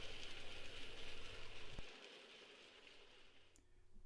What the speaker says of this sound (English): and some proper trains running